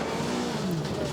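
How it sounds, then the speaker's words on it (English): A naturally aspirated, high-revving MG S2000 race engine screams steadily through a long right-hand bend on a rally stage at the Goodwood Festival of Speed, loud and sustained, with a commentator talking over it. "that normally aspirated engine sound is great. Real racing engine."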